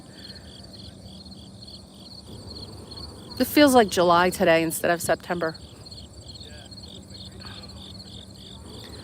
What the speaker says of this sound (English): Lovely chirpy grasshoppers are super loud this morning.